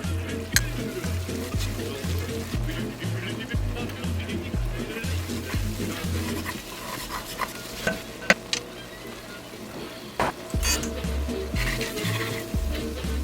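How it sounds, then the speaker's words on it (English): Flour is stirred into melted butter in a pan for a roux, giving soft scraping and light sizzling over steady background music, with a few sharper knocks. "Add in half a cup of flour and mix it in"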